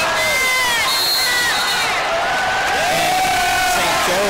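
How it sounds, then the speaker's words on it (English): A loud basketball arena crowd at an ODU versus St. Joseph's college game cheers and shouts continuously, with whoops and high-pitched yells rising over the roar. "Crowd is really starting to get into it here."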